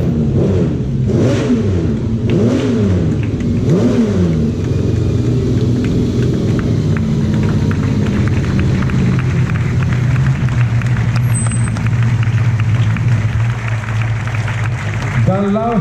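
A classic Aston Martin DB3 S sports car at the Concorso d'Eleganza Villa d'Este passes loudly, its engine revving in rising and falling surges before settling into a steady rumble, with a crowd and an announcer heard around it.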